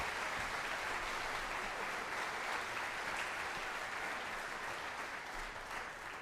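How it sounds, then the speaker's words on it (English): An audience at a school fall band concert applauds steadily for several seconds, a dense even patter of many hands, fairly distant and gradually tapering toward the end. "Let's give him a round of applause."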